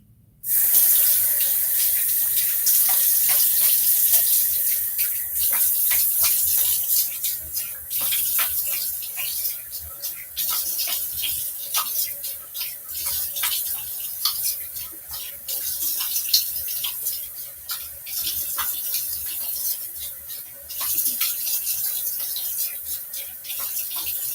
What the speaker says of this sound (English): Let's do a face rinse